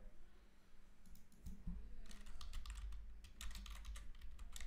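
Rapid clicking keystrokes on a computer keyboard, quiet and fairly close, coming in bursts over a low background hum with no voices.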